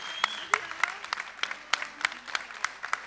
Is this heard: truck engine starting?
no